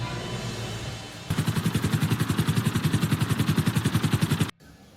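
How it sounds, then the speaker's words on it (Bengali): A helicopter arriving in a film scene, its rapid rhythmic rotor chop loud and close for a few seconds before cutting off abruptly. "আর আমার হেলিকপ্টারও আমাকে আনতে চলে এসছে।"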